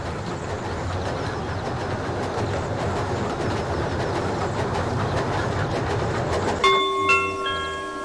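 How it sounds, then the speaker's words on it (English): A train rumbles steadily with clattering wheels, then squealing brakes ring out near the end as it slows to a stop. "The next train to arrive is the NatureCon Special, calling at Lighthouse Halt."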